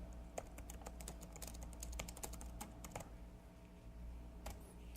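Computer keyboard typing while entering text into the Inkscape drawing program: a steady run of quick, light, irregular key clicks close up, with no talking.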